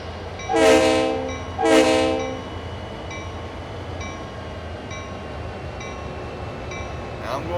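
A diesel oil delivery train in the simulator Train Sim World 5 sounds two loud horn blasts, then settles into a steady low idle rumble with a faint repeating chime as it gets ready to move.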